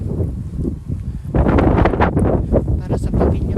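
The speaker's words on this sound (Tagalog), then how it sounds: "Malakas ang hangin kasi." Strong wind on a sunny but cold first day of the year at a temple in Japan, blowing hard into the microphone as a loud, steady rumbling buffet that grows stronger midway.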